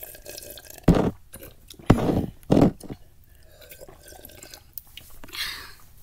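Water sounds made up close for an ASMR recording come as three short, loud, wet bursts spaced about a second apart, with quiet low rustling and faint soft noises between them.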